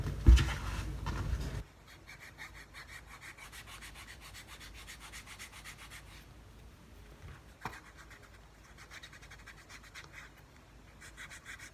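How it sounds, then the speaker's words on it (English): Leather edge of a hatchet sheath being burnished, a steady soft rubbing friction that runs continuously and close after a brief louder handling noise at the start, with one small knock midway. "And then we can burnish it and"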